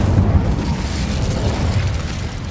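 The Incendio fire spell cast in Hogwarts Legacy, a loud close rumbling whoosh of flame with a deep booming burst at the start that rolls on steadily.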